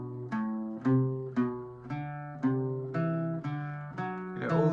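An Irish bouzouki plays a broken-thirds exercise with down picks only, nine or so evenly spaced plucked notes stepping through the pattern, each ringing with bright metallic string overtones, close and clear with no talking.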